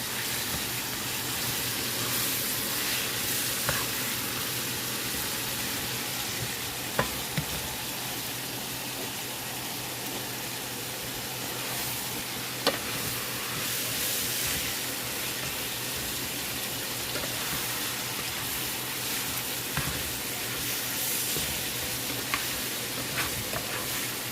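Ground beef and green peppers with onions sizzle steadily in a pan, with occasional sharp scrapes and clinks of a utensil stirring them, a continuous close frying hiss and no talking.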